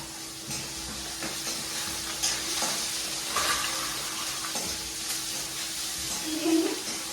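Maggi noodles cook in a pan with a faint continuous sizzle and bubbling, joined by soft scraping stirs and occasional clatter, heard at a moderate distance in a home kitchen.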